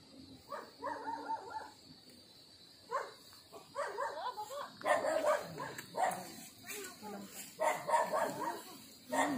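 Several dogs barking in repeated clustered bursts out in the countryside of a Philippine province, fairly close and loud, with a voice talking between and over the barks.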